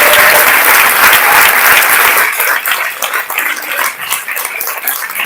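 Loud, sustained applause for the children at a reading-aloud contest, dense clapping filling the room and thinning slightly toward the end.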